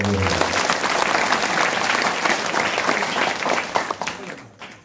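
An audience at a kirtan performance breaks into sustained, dense applause, loud and close, holding steady for several seconds before thinning out at the end, with some voices mixed in.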